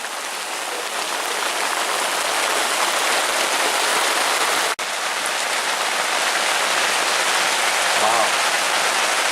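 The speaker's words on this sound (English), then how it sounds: "We have rain falling and a lot of hail bouncing off the ground." Heavy rain and hail come down steadily on the ground at Karanga Camp on Kilimanjaro, a loud, dense, continuous patter with a brief click partway through.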